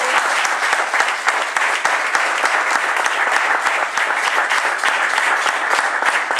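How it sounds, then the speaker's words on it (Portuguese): Church congregation at a Methodist baptism service in Várzea Grande claps steadily, a thick, even wash of applause with distinct claps punctuating it, loud and unbroken for the whole stretch. "Aplauda o Senhor."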